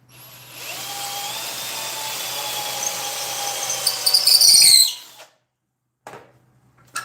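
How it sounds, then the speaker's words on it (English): An old Milwaukee power drill whirs continuously for several seconds with a high whine, rising to a squealing peak before cutting off, followed by brief clunks. "I've had this Milwaukee drill forever."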